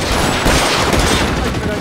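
Gunfire in the video game L.A. Noire, a dense continuous barrage of shots loud throughout, with voices mixed in the chaotic scene.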